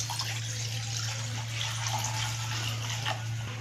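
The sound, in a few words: pouring water into a wok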